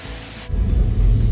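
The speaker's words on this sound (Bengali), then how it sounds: "দেখো কোন ওপর থেকে ঝর্ণার জল পড়ছে।" Water pours steadily down Kanchenjunga Falls near Pelling, swollen by rain. A loud, dense rushing roar cuts in abruptly partway through and then holds.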